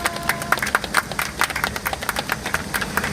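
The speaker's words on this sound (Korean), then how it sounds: "자, 큰 박수 한 번 더 보내주십시오." A crowd at an outdoor rally on a hot day claps steadily, dense applause with sharp individual claps close by and continuing throughout.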